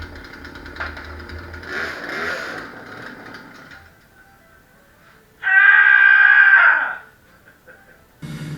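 A Poulan Pro 18-inch gas chainsaw runs nearby, rough and uneven at first, then fades low before a loud sustained high-pitched burst of revving that cuts off abruptly, followed by a short final blip.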